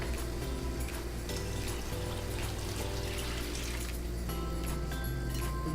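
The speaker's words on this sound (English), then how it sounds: "Now I'm going to pour in my seafood stock." Seafood stock poured into a pot for bouillabaisse, a steady continuous liquid splash and trickle that lasts throughout, close by with no talking.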